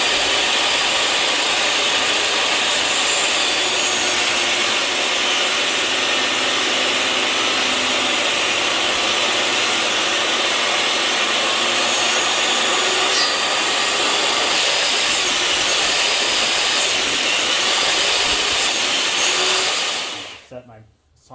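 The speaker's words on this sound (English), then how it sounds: "Next, I'll take this to the table saw. And I will cut about 3 inches down" A table saw cuts through 3/4-inch wood for a wooden toolbox with a loud, continuous whirring roar that holds steady and then spins down abruptly at the end.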